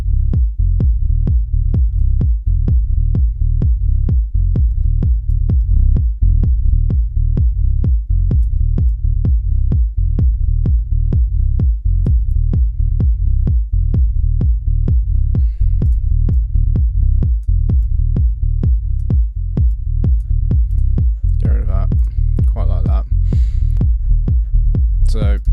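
A synth bassline with reverb on it, steady repeating low pulses that throb evenly and continuously, with a faint voice briefly talking near the end.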